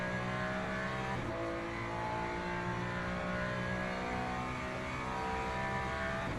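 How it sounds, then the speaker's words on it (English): An Italian supercar engine in a Le Mans racing video game drones and revs steadily at low level, holding a constant, layered tone throughout. "The Super Italian in the Italian supercar sounds good"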